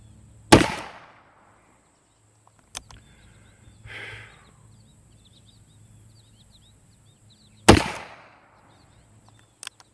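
A Dan Wesson .44 Magnum revolver, an older used gun, fires at a target about 15 yards away, two loud, sharp booming shots several seconds apart with faint clicks and quiet outdoor ambience between.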